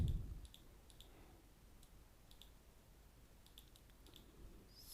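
Faint, crisp computer mouse clicks come in small clusters of single and double taps, close and quiet over a low background hum in an otherwise still room.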